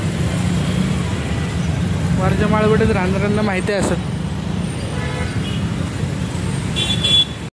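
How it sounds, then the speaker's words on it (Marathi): Continuous road traffic in a busy, crowded street, with a steady engine rumble and several vehicle horns sounding in the middle. A person speaks over the traffic. "ट्रॅफिक कंटिन्यू ट्रॅफिक असते इथे."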